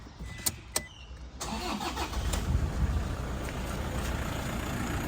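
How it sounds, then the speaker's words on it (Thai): A few clicks, then the 2.5-litre diesel engine of a used Toyota Vigo Champ pickup cranks and catches, settling into a low, rumbling idle close by. "เดี๋ยวผมสตาร์ทเครื่องยนต์ให้ฟังกันนะครับ"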